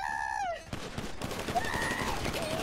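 Rapid gunshots in a GTA 5 roleplay game, a dense volley of sharp cracks rattling close and loud for a couple of seconds after a brief tonal sound fades out.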